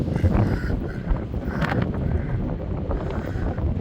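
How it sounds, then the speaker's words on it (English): Heavy wind buffeting a microphone on Blackpool promenade, a continuous loud low rumble with gusty surges throughout, no clear speech. "if you don't like the wind noise, just switch it off"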